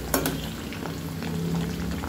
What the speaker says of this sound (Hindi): ये देखिए, मैंने गोभी डाला है और गोभी को मैं फ्राई कर रही हूँ।